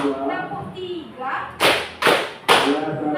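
Three sharp hand claps from a group of children counting along in a classroom, spaced about half a second apart, following a stretch of an adult voice talking.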